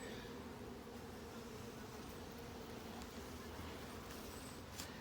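A dense, steady hum of many honey bees buzzing close by on a hive frame of brood, a continuous drone with no pauses and no voices.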